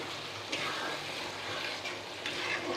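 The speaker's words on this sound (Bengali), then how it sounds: "ছানাগুলো মশলার সঙ্গে কিছুক্ষণ বেজে নিচ্ছি" Chhana (cottage cheese) frying with spices in a pan gives a soft, continuous sizzle with faint stirring scrapes, fairly quiet and steady throughout.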